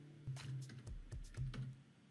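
Several irregular, fairly quiet keystrokes on a computer keyboard as a variable name is typed into Siemens TIA Portal PLC programming software, with a steady low hum underneath and no talking.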